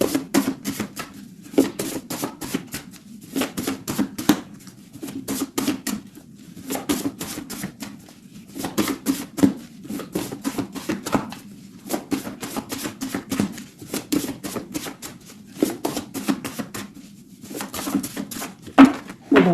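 A deck of tarot cards is cut and handled in quick bursts of crisp shuffling and riffling clicks, separated by short pauses, close and fairly loud with no talking.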